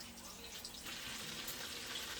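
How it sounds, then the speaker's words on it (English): Soft, continuous sizzling and crackling of fish frying in oil, fairly quiet, with faint bubbling and small pops. "I'm gonna show you guys in a minute as the fish is frying."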